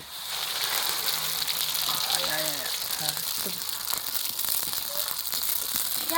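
Cumin and mustard seeds crackling in hot oil, a steady close sizzle with faint popping, while people talk quietly in the background.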